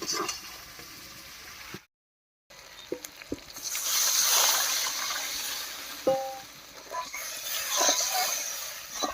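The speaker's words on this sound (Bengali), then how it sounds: "এবারে ঝোলের জন্য জল দেব" Water is poured into a pan of spiced taro and hilsa curry to make gravy, sending up a broad hiss and splash after a short silence. The rush swells and then settles into a softer sizzling bubble with a few clinks of utensils.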